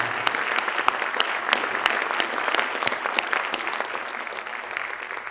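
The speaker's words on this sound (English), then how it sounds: "And we have one final round of applause for all our award recipients." Award recipients at a school board spring conference in a high school get another round of applause from the crowd, with crisp individual claps standing out over steady clapping that gradually fades.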